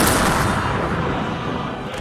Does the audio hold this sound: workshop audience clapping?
no